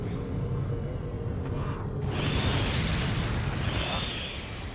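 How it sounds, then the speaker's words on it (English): A burst of fire from an incendiary grenade going off in Resident Evil 4 on PS4, a loud rumbling boom that swells to a sustained roaring crackle and holds for several seconds. "I really don't want to waste an incendiary grenade."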